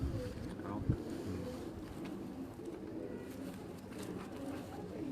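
A pigeon coos low and soft while being held up for display on a Quetta rooftop, someone talking over it throughout.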